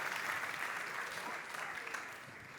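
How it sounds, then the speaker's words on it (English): Audience applause fills the room in a steady, even wash of clapping, moderately faint and unbroken from start to end, with no voices over it. "Everyone give it up for Caden"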